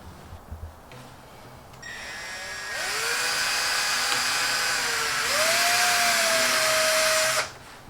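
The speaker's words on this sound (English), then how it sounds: "So I'm going to drill this hole" A high-pitched electric drill whines steadily for several seconds while drilling a small hole on a Ford Focus ST, its pitch shifting slightly as it bites into material, then stops abruptly.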